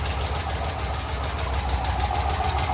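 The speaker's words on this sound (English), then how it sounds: "The ticking's gotten a little bit better on the valve train" An LS V8 swapped into a turbo, nitrous Crown Vic idles steadily after sitting unused, with a continuous mid-pitched engine drone and a fast, even ticking from the valve train lifters running throughout.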